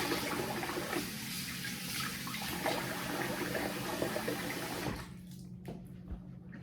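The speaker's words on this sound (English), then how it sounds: "So I'm gonna rinse the face." Tap water splashes and trickles close by as a face is rinsed after a wet shave, a quiet, continuous running-water sound that thins out near the end.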